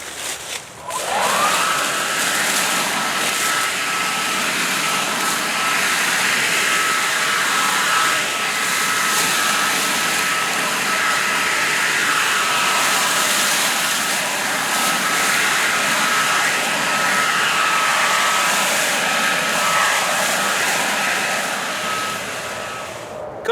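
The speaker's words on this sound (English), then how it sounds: "And now using it on high, even though the runtime will go down, you can see how much the performance is going to go up." ECHO 58-volt brushless battery leaf blower (120 mph, 450 CFM) running on high, a loud steady whooshing roar with a faint whine that holds for the whole stretch after a quick spin-up, with no talk over it.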